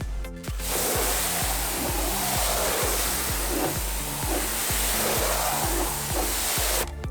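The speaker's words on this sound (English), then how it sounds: "And then we're just going to rinse." Water spray rinsing a vehicle's black plastic trim, a loud continuous hissing rush with pulsing low tones that starts and stops abruptly, close and alone.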